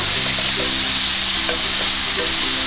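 Pancetta and tomato sizzle loudly in a pan while being stirred, a dense continuous frying hiss with soft scrapes, close up and without voices.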